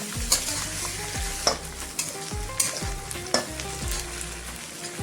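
Onion and garlic fry in a pan with a steady close sizzle, punctuated every second or so by the scrape and clack of a stirring spoon.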